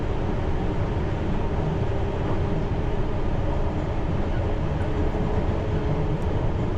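A London Underground Piccadilly Line train runs through a deep tunnel during engineering works, giving a loud, steady rumble and roar of wheels on track with no pauses or talk.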